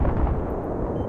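Heavy, booming gunfire and explosions from a tank in a 32-versus-32 Battlefield-style video game, a dense low rumble that stays loud through the whole short stretch.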